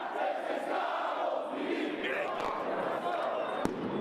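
Large crowd roaring and shouting in a La Paz street during a failed military coup in Bolivia, a dense continuous clamor of many voices with a sharp bang near the end.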